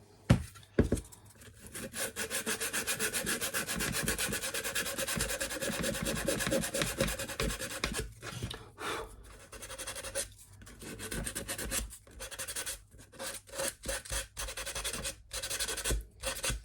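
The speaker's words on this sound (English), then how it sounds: "just simply just sand the black paint away, or the paint away" Sandpaper rubs steadily over a wooden model ship hull of the Santa Maria, taking black paint off in continuous dense scratching strokes, close and fairly loud, then breaking into shorter bursts with brief pauses toward the end.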